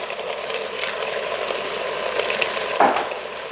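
Minced garlic and peppers sizzle with browning beef in a hot pan, a steady close frying hiss broken by a sharper scrape of a utensil near the end.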